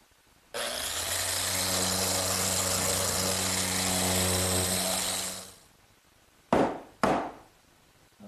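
A power tool sands wooden Mission-style sofa parts with a steady, loud buzzing hum for about five seconds, then winds down; two brief, sharp bursts follow after a pause.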